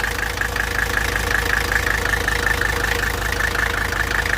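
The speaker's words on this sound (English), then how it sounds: "She's idling a bit rough." A Mercedes-Benz 300TD W123 diesel engine idles roughly with a steady, loud, uneven knocking clatter and a constant hum, heard close up with no talking.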